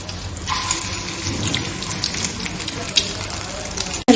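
Egg-coated nargisi kofte fry in oil with a steady, close sizzle and light crackle that continues throughout, ending in a sharp clunk.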